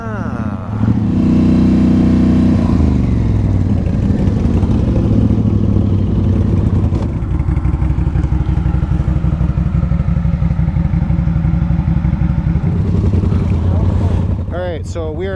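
Polaris Scrambler XP1000S and Can-Am Renegade 1000 ATVs in all-wheel drive revving and launching in a race, loud close engines roaring and rising in pitch over about fifteen seconds, with clattering near the end.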